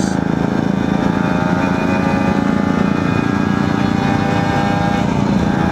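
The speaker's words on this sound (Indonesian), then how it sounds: "Moge kalau pas nanjak ya enak ya. Wah, torsinya kerasa guys." A big motorcycle climbs uphill while touring from Majalengka to Guci, Tegal, giving a loud, steady, rumbling engine drone under load that holds at an even level throughout with no pauses.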